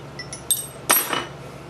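A metal chisel and punch kit is handled, giving a few light metallic clinks and one brighter clatter near the middle of a short, quiet moment, with no talking.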